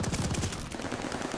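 Rapid automatic gunfire from a gun with no attachments in a first-person shooter game, a dense, loud continuous burst of shots filling the whole moment.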